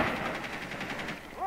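A cluster bomb detonates in a drone combat video game, a quick run of sharp, rattling explosive pops over a second or so, close and punchy, followed by a brief rising tone.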